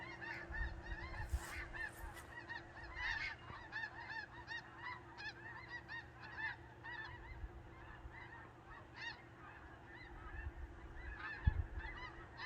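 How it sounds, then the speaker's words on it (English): Snow geese honking as they fly in, a steady stream of repeated nasal calls from a flock at a moderate distance, fairly faint, with occasional low rumbles nearby. "Geese just keep coming in all day long. Bunch of snow geese there."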